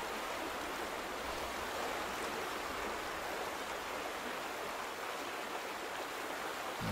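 Constant rushing water like a stream or small waterfall fills the scene in the lakeside area of the game The Vanishing of Ethan Carter, a steady broadband hiss, faint and unbroken, with no one talking.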